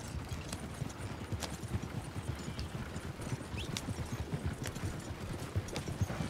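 Horse hooves clip-clop at a steady trotting rhythm in the video game Red Dead Redemption 2, close and continuous, with faint ambient outdoor sounds behind.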